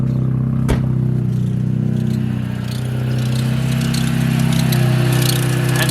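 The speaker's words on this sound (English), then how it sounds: "Car's loud." A loud drift car's engine runs steadily at close range before a drift event, producing a constant droning idle with a sharp clatter near the start and a slight dip in level midway.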